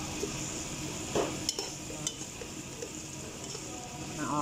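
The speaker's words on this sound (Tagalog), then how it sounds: "Nagisa na talaga siya." Beef stew with bay leaf sautés in a pan, a soft steady sizzle under occasional scraping stirs and light clinks of the utensil against the pan.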